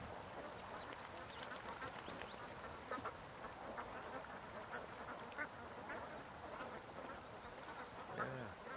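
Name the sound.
ducks quacking near a lake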